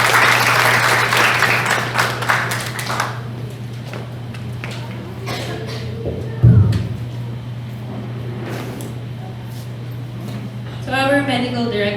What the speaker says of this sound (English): let us all give a warm round of applause for Dr.